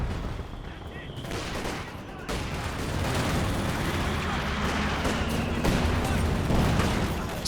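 Soviet mortar fire in Company of Heroes 2 booms amid dense, continuous battle noise, with rolling explosions and gunfire layered into a loud, chaotic wash.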